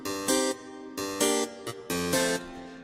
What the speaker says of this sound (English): I knew that the bass instrument I wanted to use was a harpsichord, and it sounds like this.